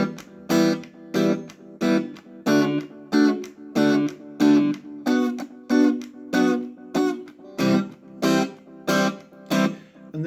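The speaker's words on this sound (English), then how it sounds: "And the trick there is that staccato strumming." Reggae-style staccato strumming on guitar for the bridge of a song: a steady run of about twenty short, choppy chords, each cut off sharply with clear silent gaps between them, played loud and close with no talking.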